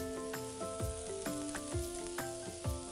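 Noodles sizzle loudly in a hot pan while a utensil scrapes and tosses them in a quick, repeated rhythm; a steady tone hums underneath.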